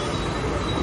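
A Mumbai local train heading toward Tilak Nagar gives a loud, dense rumble with faint high wheel squeal, a brief close burst of rail noise.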